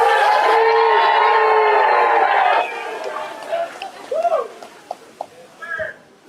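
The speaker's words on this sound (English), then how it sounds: "I want to hear what you're going to sound like when you're cheering for the stands in the game" A press conference audience for a Mayor's Cup game lets out a loud, sustained cheer for about two and a half seconds, then trails off into scattered voices and chatter.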